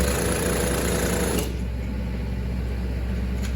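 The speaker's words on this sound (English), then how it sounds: "If you hear a jackhammer going on in the background" A jackhammer at a construction site hammers in loud, rapid mechanical rattling continuously nearby, then drops to a lower steady drone partway through.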